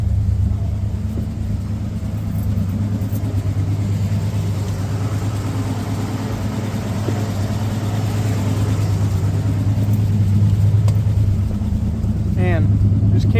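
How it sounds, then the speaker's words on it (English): 1935 Ford flathead engine, running slightly rough, droning steadily and loudly out on the open road with a constant low rumble and cabin noise throughout. "just can't beat the sound of a flathead, even if it might not be running quite perfect"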